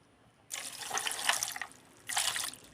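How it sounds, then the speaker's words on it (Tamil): A tumbler of water is poured into sweet lime (mosambi) juice ahead of blending, making a close, steady gush of splashing water. It breaks off briefly, then a second pour follows. "தண்ணி 1 டம்ளர் சேர்த்துக்கலாம் ஃப்ரெண்ட்ஸ்."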